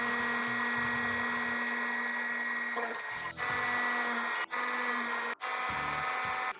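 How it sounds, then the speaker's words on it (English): A small power drill bores holes in a drone frame, giving a steady, high whine that cuts off briefly three times before spinning up again, close and fairly quiet. "I drilled the hole a little bit small"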